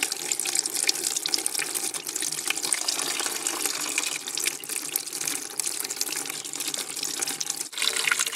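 Warm coolant drains from a car's cooling system in a steady, continuous rush of liquid, like a running tap, close and fairly loud for the whole stretch with no talking.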